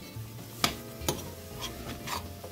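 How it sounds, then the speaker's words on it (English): Chopped fresh vegetables stirred in a hot pan for a Puerto Rican root-vegetable and corned beef dish: two sharp utensil knocks against the pan, then softer scraping stirs over a faint, steady sizzle, close and alone. "Stir fry that up a little bit in there."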